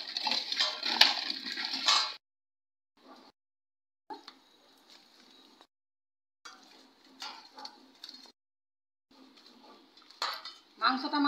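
Meat with spices and potatoes gets mixed by hand in a metal pot, giving bursts of clattering, scraping and squelching separated by short silences, close and moderately loud, with no talking.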